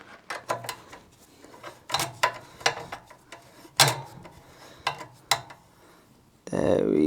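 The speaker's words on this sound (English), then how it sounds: "as you go in with the 5mm Allen key, and just tighten the whole thing up" A 5mm Allen key tightens the foot rest bolt on an e-cargo bike, giving a series of sharp metallic clicks and ratcheting taps in irregular bursts, close and moderately loud, ending in a brief rush of noise.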